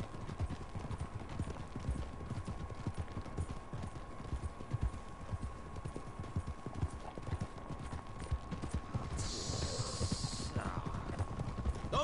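Several horses' hooves clip-clop steadily along a hill road in Red Dead Redemption 2, a dense, overlapping trot heard close and at moderate volume, with a brief creak or whinny near the end.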